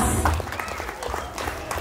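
A family crowd at a baptism celebration claps in a short burst of dense, lively applause that carries on steadily, with some voices mixed in.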